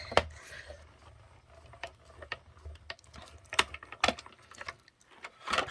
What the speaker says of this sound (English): I'm going to run this through my mini stamp and emboss machine